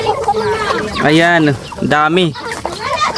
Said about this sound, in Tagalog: Ayan, mga native na manok guys.